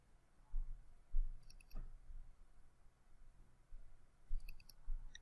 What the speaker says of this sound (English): We'll click browse.